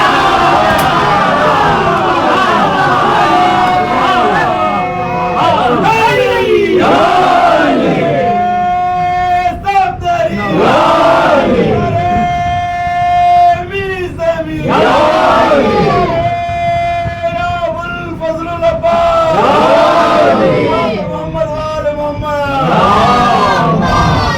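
A large crowd chants religious slogans in unison at a Muharram majlis gathering in Nellore, repeated loud call-and-response cries rising and falling in waves across the hall, with a sustained voice leading between the chants.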